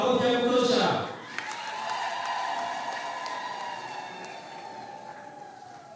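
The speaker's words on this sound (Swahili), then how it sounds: "Makofi ya kutosha." Applause for two bishops at a mission's tenth-anniversary celebration in Kituri, Tanzania, a sustained crowd clapping that swells briefly at first and then carries on at a steady, moderately distant level under a high ringing tone.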